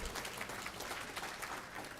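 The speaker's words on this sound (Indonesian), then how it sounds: "Tepuk tangan dulu." Audience applause at a city anniversary ceremony in Palembang: a steady, dense wash of clapping that holds at an even level for the full two seconds.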